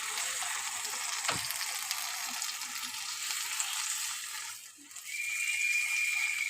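Water poured into a pan of Malabar spinach cooking with turmeric, giving a steady hiss and sizzle with a brief dip near the end, then a bright sustained tone as it settles.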